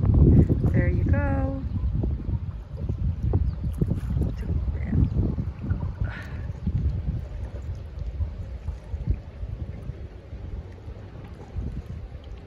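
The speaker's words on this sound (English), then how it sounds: "There's one boat coming." Boat engine rumbling on the water at Honey Harbour, Muskoka, amid steady wind buffeting the microphone, with a few faint voices and bird chirps early on.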